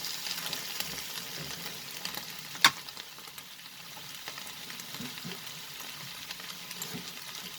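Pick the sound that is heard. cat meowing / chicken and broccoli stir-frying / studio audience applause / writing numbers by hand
chicken and broccoli stir-frying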